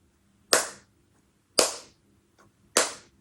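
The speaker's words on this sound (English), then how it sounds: "clapping" Three sharp hand claps, spaced about a second apart, ring out alone in an acoustically treated music studio, each with a short, quickly fading tail of room reverb.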